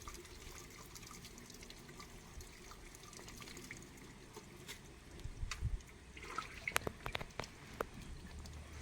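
Water pours steadily from a hand-pumped well with PVC piping, a soft continuous trickle and splash, with a few sharper drips and knocks toward the end.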